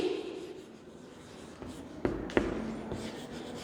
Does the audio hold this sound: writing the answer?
yes